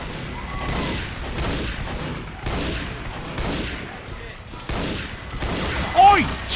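Sustained gunfire from a sentry gun in Team Fortress 2, a continuous rattling barrage with booms layered into busy game noise, fairly loud and steady throughout.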